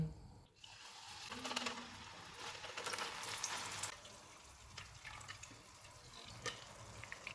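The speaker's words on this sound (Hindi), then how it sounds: "ऑयल में तैयार किया हुआ पेस्ट डालेंगे।" Continuous sizzling and crackling as a wet spice paste hits hot oil for pakora curry, with occasional stirring clinks over the steady hiss.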